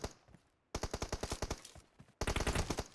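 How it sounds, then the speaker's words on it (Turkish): Automatic gunfire in the mobile battle-royale game PUBG Mobile comes as loud, rapid bursts of rattling shots, with a softer stretch of shots first and then two dense bursts separated by a short gap. "50 vurdum Sasuke'ye."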